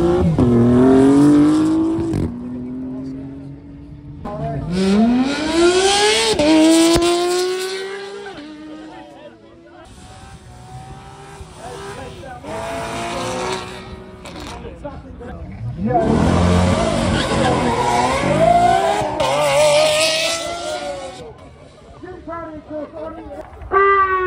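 A Maserati MC20 sports car revving hard and accelerating at a supercar festival, with repeated rising engine pulls, tire squeal and loud passes close by, voices and crowd noise underneath.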